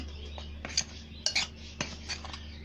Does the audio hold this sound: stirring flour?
yes